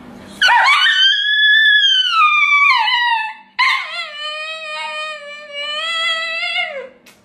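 A dog howls and yips in two long, wavering, high-pitched cries, close and loud with a short break between them.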